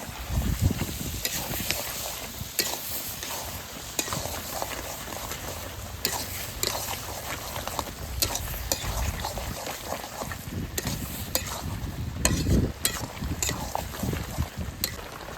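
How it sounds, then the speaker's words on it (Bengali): Yogurt added to mutton frying in oil in a Bengali home kitchen with potatoes, giving a steady loud crackling sizzle with sharp spitting pops and occasional stirring scrapes throughout. "এবার দই দিয়ে দেবো এখানে পঞ্চাশ গ্রাম মতন দই আছে তাহলে কেমন আওয়াজ করছে টিপটাপ টিপটাপ করে আওয়াজ হচ্ছে"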